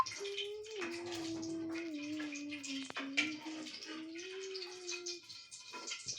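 Juice poured into a bowl of pakora mixture made with vegetables and fruit, a soft continuous liquid gurgle and trickle under someone talking throughout.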